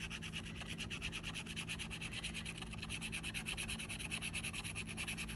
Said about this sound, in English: It scratches better this way